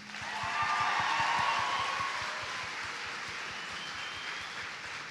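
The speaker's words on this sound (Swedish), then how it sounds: "vi vill bara utbringa en jättestor applåd för Josefin Slöfoss" Distant, steady applause from a crowd at a cosplay competition in Stockholm fills the whole stretch. It peaks early, then settles into a softer, even wash of clapping.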